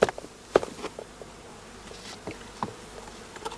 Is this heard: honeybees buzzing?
yes